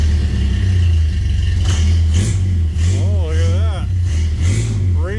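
A car engine idles steadily and then revs, the throttle rising and falling in several pulls at close range, with a whining, warbling tone over the low engine hum.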